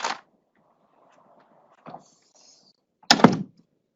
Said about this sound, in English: so that's the noise from the door